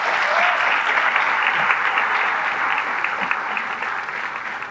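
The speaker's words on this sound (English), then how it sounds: "one more round of applause" Audience applause at a high school graduation ceremony for the Class of 2023, a steady, dense clapping from a large crowd that fills the hall without a break.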